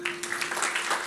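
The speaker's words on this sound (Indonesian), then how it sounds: "Kasih tepuk tangan untuk Tuhan." Brief burst of audience applause in a church service, a short patter of many hands clapping at moderate volume alongside a steady held tone.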